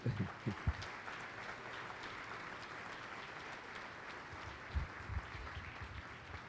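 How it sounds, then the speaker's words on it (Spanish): Faint, distant applause from a church congregation during a Sunday-morning service, a soft sustained patter with a few low thumps near the start and again toward the end. "Dale un aplauso al Señor esta mañana"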